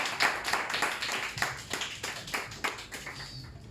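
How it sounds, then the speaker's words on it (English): A stand-up comedy crowd claps for a first-time performer, with loose individual hand claps in an uneven, crackling rhythm that fades slightly toward the end. "can I have a massive round of applause for Sham?"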